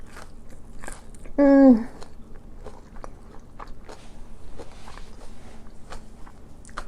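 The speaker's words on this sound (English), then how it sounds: "Let's try this Carolina Gold." A single loud, crunchy bite into a crispy onion ring with Carolina Gold, followed by quieter chewing, and a person hums with pleasure.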